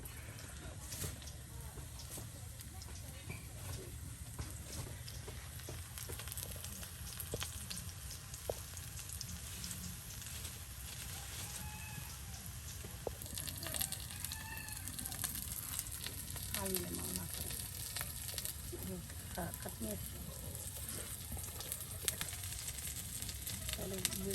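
Mochi fritters frying in hot oil, turned over in the pan, a steady close sizzle and crackle with occasional scrapes and light clinks running throughout, in an outdoor village kitchen.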